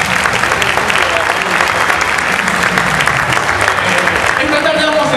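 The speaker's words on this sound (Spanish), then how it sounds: "Fuerte el aplauso para él." Loud, dense audience applause at a circus gala, continuous and close, with crowd noise and a few voices under the clapping.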